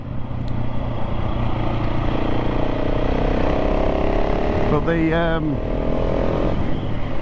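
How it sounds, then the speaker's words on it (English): A KTM 690 SMC-R single-cylinder motorcycle engine thumps and roars continuously with exhaust note, close by, with a brief rising whine of acceleration midway and a short spoken word. "the induction noise and the exhaust are quite addictive when you just accelerating out of corners"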